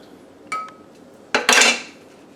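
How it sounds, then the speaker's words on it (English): A wooden spoon knocks and scrapes inside a half-gallon glass jar while mixing sun tea, giving a couple of clinking taps followed by a louder, rattling scrape, close by with no talking. "Just using the bottom of a wooden spoon. Mixing it up."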